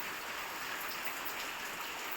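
Steady rain falls softly, a quiet even patter and hiss with drops pattering on nearby surfaces.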